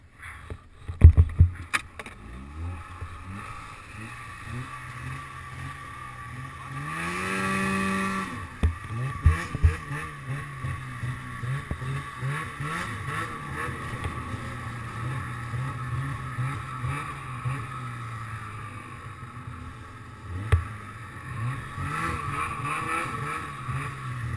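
Snowmobile ridden along a snowy trail near Lake Alpine on closed Highway 4 in California, its engine droning steadily and rising in pitch as it pulls away, with rumbling thumps and wind over the mic.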